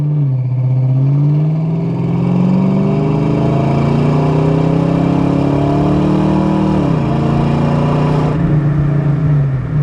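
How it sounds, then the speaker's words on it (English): A 1993 Ford Mustang LX coupe with a 5.0 V8 and automatic transmission accelerates under throttle, its loud engine note rising steadily through a gear, dipping at a shift, then climbing again. "We'll roll into the throttle here a little bit."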